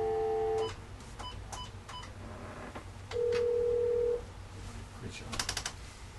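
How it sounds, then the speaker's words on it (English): Phone number being dialed: a few short electronic keypad tones and a longer steady beep, followed by clicks, with faint background noise and voices in the room. "dial 1338 real fast"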